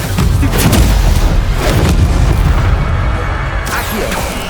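Spell casting in the video game Hogwarts Legacy during combat: a continuous loud wash of booming magical impacts and blasts, dense and noisy throughout with no clear gaps.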